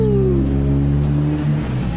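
A car engine drones loud and close, its pitch sliding down and holding steady as the vehicle passes, a sustained mechanical hum with no voices.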